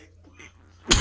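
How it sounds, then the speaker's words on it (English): A single short cough bursts out near the end after a moment of quiet, close and fairly loud. "I've been trying to hide that cough for a little bit."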